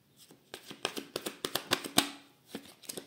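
A tarot deck being cut and handled up close: a quick series of crisp card slaps, riffles and taps in uneven bursts, quiet overall with a sharper snap near the middle.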